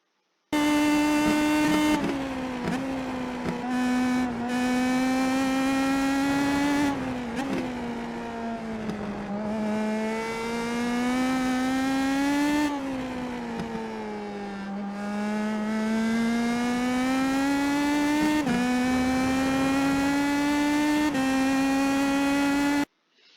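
An IndyPro2000 open-wheel race car laps Silverstone in the iRacing sim, its engine note a continuous high whine that rises and falls through gear changes and corners, loud and uninterrupted for the whole stretch, with no voices.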